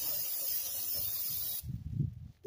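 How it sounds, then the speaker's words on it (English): Brake cleaner sprayed from an aerosol can onto the front wheel hub of a Ram 1500 truck: a loud, continuous close-up hiss lasting about a second and a half, then cutting off into low clunks and handling noise. "I'm spraying this with some brake clean"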